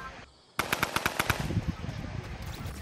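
Rapid automatic gunfire in Fortnite, a close burst of about ten evenly spaced shots followed by scattered quieter fire, alone without talk.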